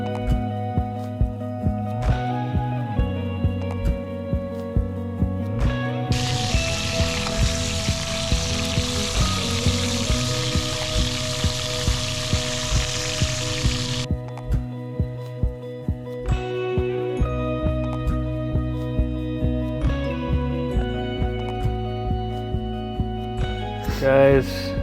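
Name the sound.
steaks sizzling while cooking on a camping grill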